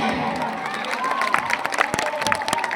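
A rally crowd claps and cheers in welcome, a busy wash of applause with shouts and voices rising through it, loud and close, with a tonal line of calling voices running beneath.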